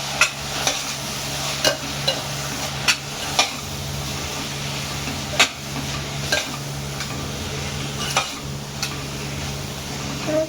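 Vegetable pulav being stirred and mixed with masala in a pan: a soft continuous sizzle broken by sharp, irregular spoon-against-pan clacks roughly every second or two, close and without talk.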